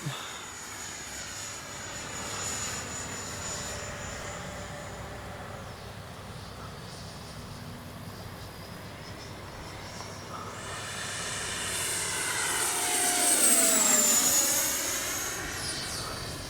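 A Freewing 90mm T-45 model jet roars past, its whine rising and sweeping in pitch as it closes in and then fades into the distance, loud at its nearest point.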